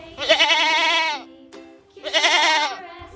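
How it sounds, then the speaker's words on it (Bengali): Two loud bleats from a goat, each a wavering nasal cry about a second long, separated by a short gap with a faint click, heard up close and alone. "ছাগল।"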